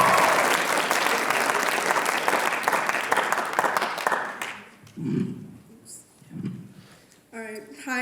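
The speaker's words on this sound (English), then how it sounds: "Give her a round of applause, folks." A classroom audience at a student writers expo claps for a student poet, with dense applause that lasts about four seconds and then fades, leaving quiet room sound and a few spoken words.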